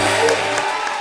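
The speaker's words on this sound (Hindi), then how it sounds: "सोहेल भाई आगे जोरदार तालियां" Loud applause from a comedy show studio audience: a brief, dense burst of many hands clapping close, fading slightly toward the end.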